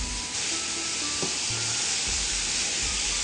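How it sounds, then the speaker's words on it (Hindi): Spinach frying in a pan for lasagna, a constant close sizzle and hiss with a few faint stirring scrapes, no talking. "इसको आप अच्छी तरह फ्राई करें।"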